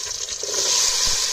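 Onion and tomato fry in a pan outdoors, a brief bright sizzle with a faint stir, close and steady.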